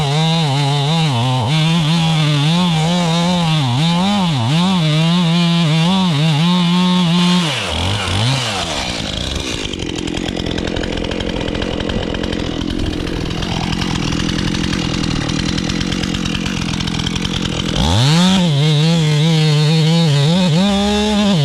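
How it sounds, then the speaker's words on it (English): Chainsaw with a freshly sharpened chain cutting through a log: a loud, steady engine whine that drops into a rougher, lower bogging tone while biting through the wood, then rises back to a high rev, alone without talk. "Now we're blowing chips, and that's how you can tell if your chainsaw is cutting"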